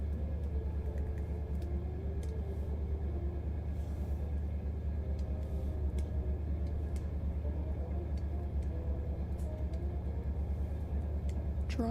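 A noisy car runs outside, heard as a steady low engine rumble and drone that holds at the same level for twelve seconds with no speech over it.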